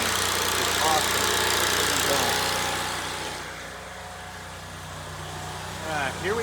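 An automatic standby generator engine runs under load with a steady, close idling drone that holds an even pitch and eases slightly in loudness partway through. Faint voices come through at moments.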